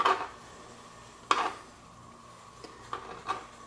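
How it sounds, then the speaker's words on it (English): A few sharp knife strikes on a cutting board, spaced irregularly with quieter taps between, close and fairly soft. "Let's give it a little extra chop."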